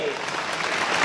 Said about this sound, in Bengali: এবার সব বন্ধু মিলে একটা তালি হবে জোরে।